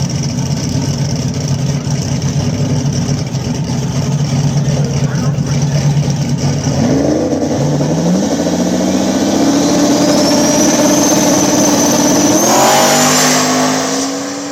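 Outlaw small tire drag race cars battle at Mooresville, engines roaring loud and continuous, then rising in pitch as they accelerate hard down the strip, with a distant announcer's voice faintly underneath.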